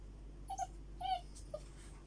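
A Russian borzoi puppy about 45 days old gives three soft, high whimpers close by in a quiet room, with brief pauses between them.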